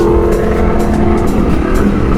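A Yamaha R1 motorcycle engine roars loudly and close on a small road, a dense continuous revving drone with rhythmic pulses.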